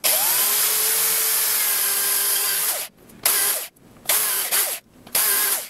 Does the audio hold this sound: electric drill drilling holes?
yes